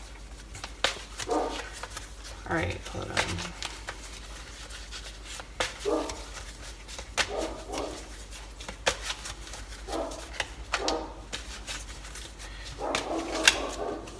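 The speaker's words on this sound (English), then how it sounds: "my dog is barking like crazy" A dog barks in repeated bursts, sometimes fast and clustered, with short gaps between them and a brief spoken remark in the middle.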